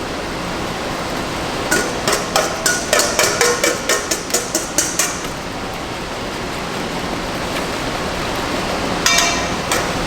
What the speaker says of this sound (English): I'm going to whisk this chimichurri into my aioli.